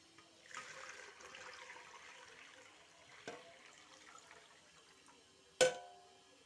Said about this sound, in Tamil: இப்போ நம்ம ரெடி பண்ணி வச்சுருந்தா தேங்காய் பாலையும் சேர்த்துக்கலாம். இன்னொரு தடவை வடிகட்டி சேர்த்துக்கலாம்.